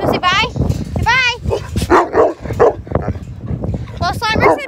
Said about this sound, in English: these guys want to say bye because they're barking